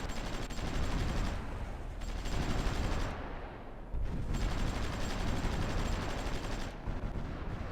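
Artillery bombardment and gunfire in the strategy game Supreme Ruler Ultimate, a continuous roar of crackling shots and booms with a couple of brief dips, no voices heard.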